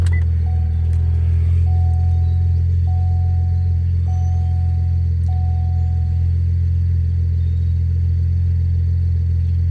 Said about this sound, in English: And it only took maybe 10-11 seconds to fresh cold start.